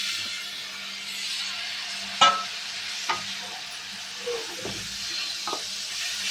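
Steady sizzling from tomato pieces and turmeric frying in a pan for a tomato cauliflower curry, with a few sharp spoon scrapes as the mixture is stirred, close and alone.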